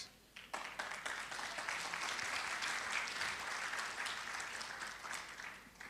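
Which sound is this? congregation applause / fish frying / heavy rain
congregation applause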